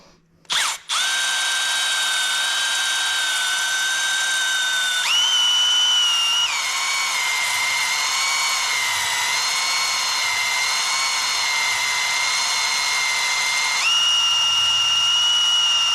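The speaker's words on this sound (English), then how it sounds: "Let's watch Kurt hone this here engine out" A drill-driven hone whirs inside the cylinders of an engine parked nearly 20 years, a loud steady high-pitched whine that shifts pitch a few times as the hone is worked, with a brief startup burst at the beginning and no talk.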